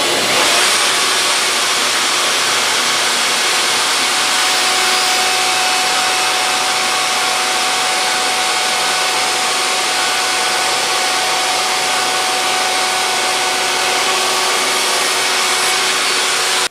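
A woodworking router makes a quick cut in wood for a simple closet and desk build, a loud, steady high-pitched whine holding constant throughout with a faint hum beneath, and no talking over it.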